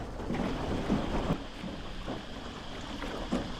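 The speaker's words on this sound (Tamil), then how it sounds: "இன்றைக்கி மழையாக இருக்குது" Steady rain falls outdoors around a river boat ride at Tam Coc in Vietnam, a dense even patter heard alone with no talking.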